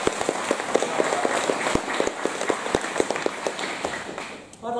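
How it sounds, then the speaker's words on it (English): A round of applause from a school open evening audience, sparse and uneven with distinct individual claps standing out, fading toward the end as a voice begins. "I think they deserve another big round of applause"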